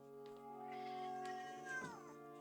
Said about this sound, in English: Very vocal kitty just entered the premises.